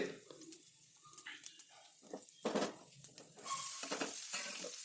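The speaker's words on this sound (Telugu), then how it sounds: "ఆవాలు కాస్త చిట్టపాట్లు ఆడగానే ఉల్లిపాయలు వేసుకొని వేయించుకోవాలి" Onions go into hot oil with mustard and cumin seeds for a masala brinjal curry, with clattering stirs, then a sudden louder steady sizzle as they start to fry.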